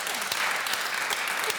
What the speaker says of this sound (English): a big round of applause for the sponsors that make this possible